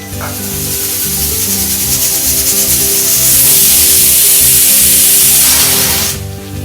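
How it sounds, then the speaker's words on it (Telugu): A mixer grinder grinds roasted lentils into a fine powder, a loud, steady whirring roar with a low motor hum that runs without pause and then cuts off just before the end. No one speaks. "ఇప్పుడు వీటిని మెత్తగా మిక్సీ పట్టుకోవాలి."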